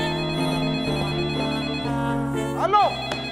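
An old-style telephone bell rings steadily under sustained music, with a sweeping tonal flourish near the end, in a theatre musical scene.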